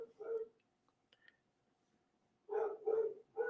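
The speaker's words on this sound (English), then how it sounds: "Cut this short right here because my loud ass dog." A dog barks nearby indoors, one short burst of woofs, then a pause with faint whispering, then three more barks in quick succession.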